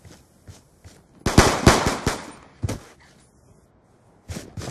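Bursts of video game gunfire, with automatic rapid shots clustered in the middle and scattered single shots before and after, loud and close with no talk.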